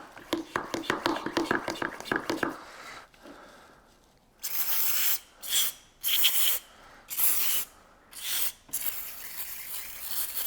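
Brake cleaner sprayed while cleaning a car part during a no-start fault diagnosis, coming as several loud close hissing bursts of about a second each with short gaps between them, after some earlier rattling handling noises.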